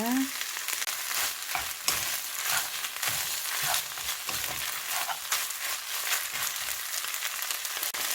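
Onion sizzles steadily in a hot pan, a loud continuous crackle with scattered stirring scrapes running throughout, close up and without speech.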